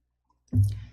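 A single short computer mouse click, close and fairly soft, sounding alone after a moment of silence.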